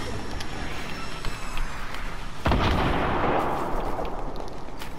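In a duo match of a shooter video game, a rocket fires and bursts with a sharp, loud blast partway through, followed by a rumbling tail amid continuous game noise and scattered gunfire pops.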